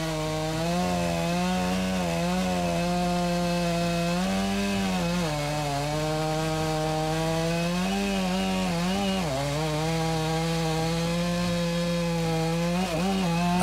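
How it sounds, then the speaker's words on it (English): A chainsaw cuts a face cut into a pine tree, its engine droning steadily and close for the whole stretch, pitch dipping and rising slightly as the bar bites into the wood. "I finish the face cut with a horizontal cut to have a flat surface for my chainsaw"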